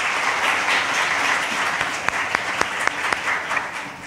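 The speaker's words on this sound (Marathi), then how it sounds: "त्यांच्याकरिता खूप जोरात टाळ्या वाजवूया आपण." A congregation at a praise-and-worship revival meeting claps loudly together, a dense steady wash of applause with a few sharper individual claps standing out near the end.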